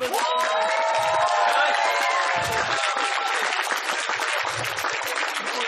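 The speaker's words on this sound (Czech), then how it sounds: "všichni aplausujte Trpaslíka!" A convention audience at an anime festival quiz claps loudly and steadily for the host, a dense continuous wave of applause with some cheering and whoops mixed in.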